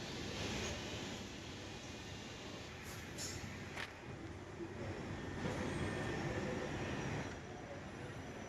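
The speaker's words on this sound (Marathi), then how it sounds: "डोर बंद झालेले आहेत. आता निघणार आहे ट्रेन." A Mumbai Metro Line 3 underground train pulls away with a low, steady rumble and hiss, a few faint clicks and chimes over the top, heard from inside the carriage.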